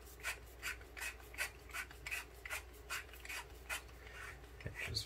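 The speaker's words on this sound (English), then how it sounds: "Now we're just going to unscrew the handle." A Vire Sabers lightsaber hilt having its handle unscrewed, giving a series of short, rhythmic rasping twists of threads, close and fairly quiet with no voices.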